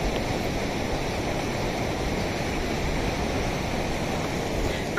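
A mountain river in the Carpathians flows where two streams join, a steady broadband rushing of water close by with no breaks or voices.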